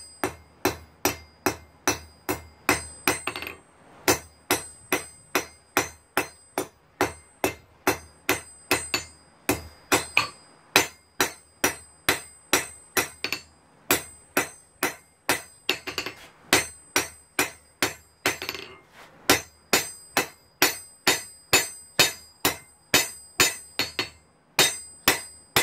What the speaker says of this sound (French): on va prendre le plat, la pointe du marteau, la panne, et on va taper du sens de la pointe.